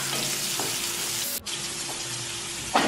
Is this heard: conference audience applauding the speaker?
no